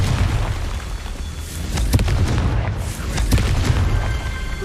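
A Confringo spell explosion in Hogwarts Legacy rumbles as a loud, sustained deep boom with crackling bursts layered on top, filling the space without any voice.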